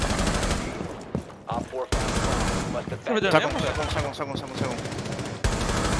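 Rapid bursts of automatic gunfire in a shooter video game crackle loudly in repeated volleys, with players talking over the shots.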